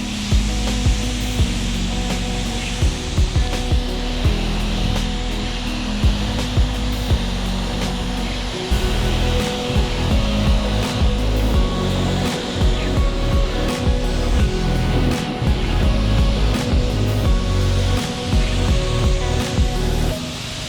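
A pressure washer rinses Tino yellow snow foam and dust off a car, giving a steady loud hiss and spray with shifting splashes against the bodywork throughout.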